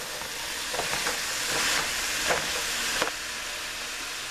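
Ground chuck beef is stirred in a pot for homemade chili, with soft scraping and mushy stirring strokes over a faint steady sizzle, a few louder scrapes standing out.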